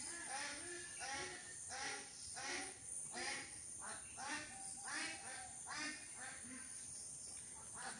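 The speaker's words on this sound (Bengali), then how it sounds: "সকাল সকাল হাঁসের যে ডাক" Ducks quack repeatedly in the morning beside a pond, a rhythmic run of loud, close calls with faint insect chirring in the background.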